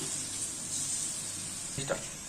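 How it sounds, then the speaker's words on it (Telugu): Okra frying in a pan, a steady soft sizzle and hiss throughout, with a brief stir or clink near the end. "ఇదిగోండి, ఇలా వేగుతున్నాయి బెండకాయలు."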